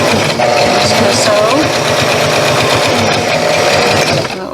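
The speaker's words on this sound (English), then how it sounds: "gonna sew a little back stitch there, and then we have it stitched." Sewing machine stitching a short back stitch while understitching a garment facing, a steady close mechanical whir with rapid needle chatter running almost the whole time and stopping near the end.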